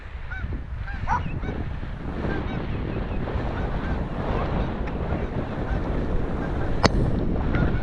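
A few goose honks sound at a distance through heavy wind buffeting the microphone, faint and scattered across the noise.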